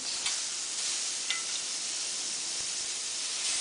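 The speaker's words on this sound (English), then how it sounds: "I love that sizzling sound." Steady, loud sizzling of marinated satay skewers on a hot grill, a continuous bright hiss with a few faint pops and no voices.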